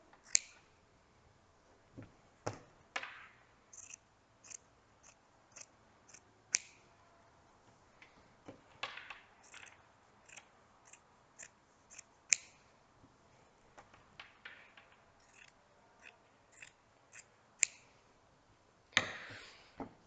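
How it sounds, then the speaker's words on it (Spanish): Fabric scissors trim excess cloth beyond a one-centimetre seam allowance at a sewing table, giving sharp close snips, some single and some in quick runs, over a quiet background. "voy a dejar un margen de aproximadamente 1 centímetro y voy a cortar el sobrante"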